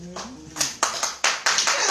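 An audience at a women's empowerment benefit event claps in sharp, close bursts that grow denser and louder, with a voice speaking at the start.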